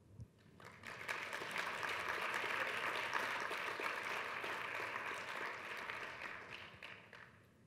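Audience applause after a tech conference talk on securing a to-do app with web cryptography, a broad steady wash of clapping that swells quickly, holds for several seconds, then slowly tapers.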